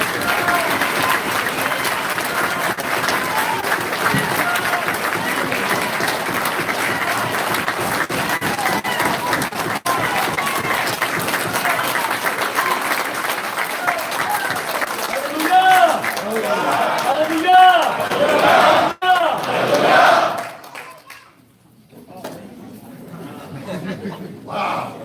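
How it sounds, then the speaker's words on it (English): Audience applause fills a hall at the 12th Hebrew Summit, steady loud clapping with scattered cheers and chatter for about eighteen seconds, then thinning out and breaking off near the end. "I'm going to ask that you all give a round of applause for Prince Ram Ben Yehuda."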